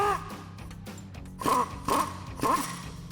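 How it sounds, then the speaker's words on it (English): Ratcheting of an 18mm socket and wrench loosening the outer bolt on a 2008-2023 Dodge Challenger rear camber arm, with three bursts of clicking and rasping at a close, moderate level. "take an 18mm socket and an 18mm wrench to remove this one"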